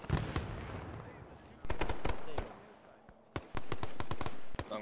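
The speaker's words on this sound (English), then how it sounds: "Machine gun still firing on my guys." Machine-gun fire in Arma 3: two sustained bursts of rapid automatic shots, each about a second long, loud and close, separated by scattered single cracks and quieter distant rattling.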